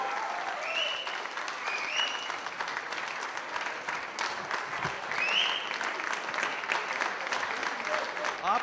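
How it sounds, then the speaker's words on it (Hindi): Audience at an Eid mushaira giving sustained applause, a dense continuous clapping that fills the whole stretch at moderate loudness, with faint voices mixed in. "तशरीफ लाते हैं आपकी भरपूर तालियों में जनाब अनवर मसूद"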